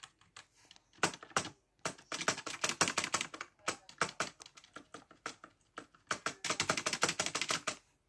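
Fingers type steadily on a new, quiet computer keyboard, producing close, soft, rapid key clicks in bursts separated by short pauses, with no talking.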